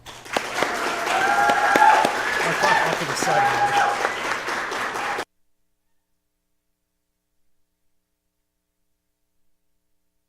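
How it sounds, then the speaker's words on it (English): An audience at a student game convention awards show claps and applauds in a dense, loud burst for about five seconds before it cuts off abruptly, with a voice speaking briefly over the clapping. "Let's give yourself a round of applause."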